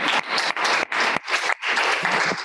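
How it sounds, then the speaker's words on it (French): An audience at a general assembly gives a short round of applause, dense clapping in several quick bursts with brief dips between them. "je crois qu'on peut vous applaudir"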